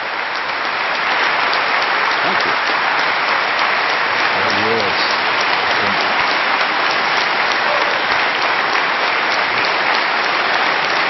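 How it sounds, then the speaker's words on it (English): A large debate audience applauds after Peter and Christopher Hitchens finish their debate, a steady wash of clapping that fills the whole stretch, with a few voices briefly rising through it. "I told them not to clap."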